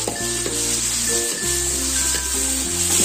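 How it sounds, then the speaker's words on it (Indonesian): Loud, steady sizzling of torch ginger spice paste frying in hot oil fills the clip, with low hum underneath and faint stirring clinks. "minyaknya kita pakai untuk menggoreng atau menggongso bumbu"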